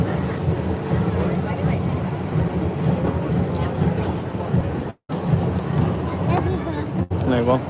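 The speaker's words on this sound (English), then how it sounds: "I like the tram. I don't get bored of the tram." The Universal Studios Hollywood tram rolls along with a steady mechanical rumble and wind buffeting the microphone, while people talk over the ride noise.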